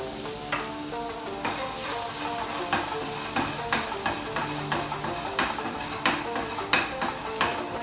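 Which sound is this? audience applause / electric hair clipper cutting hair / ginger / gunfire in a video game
ginger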